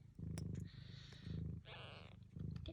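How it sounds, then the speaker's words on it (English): A Sphynx mother cat purrs close to the microphone while her kittens nurse. The purr is a steady low rumble in rhythmic breathing pulses, with faint kitten squeaks and rustling. "Mum's purring away."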